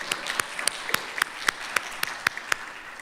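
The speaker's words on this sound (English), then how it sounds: "If everybody could join me in giving them a round of applause" A small audience at a collaborative journalism summit gives event staff a round of applause, with sharp, distinct claps standing out over a softer bed of clapping.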